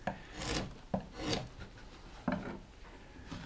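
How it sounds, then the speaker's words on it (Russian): A wood carving chisel pares along the grain of wood in soft, scraping strokes, four short rasping cuts at an unhurried pace, quiet and close. "Вот она режет вдоль волокон."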